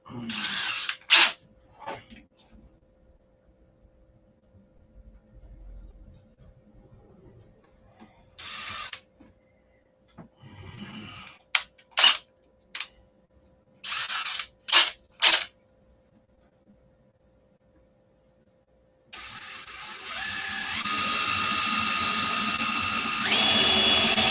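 Short bursts of a small handheld drill whirring on and off several times, then a longer continuous grinding run near the end.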